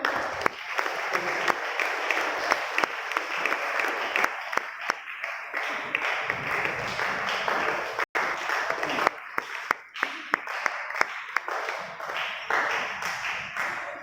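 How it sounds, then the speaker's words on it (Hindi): Loud sustained applause from a church congregation at a Vacation Bible School function, dense clapping filling the room with a few voices mixed in. "हम जोरदार तालियां बजाएं।"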